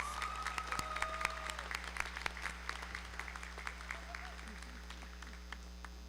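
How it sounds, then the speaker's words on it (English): At a film school graduation ceremony, an audience applauds in a lively, sustained wave of clapping heard from within the crowd, with faint voices and cheers underneath. "Please give a warm round of applause to Miss Jaylise Rosso."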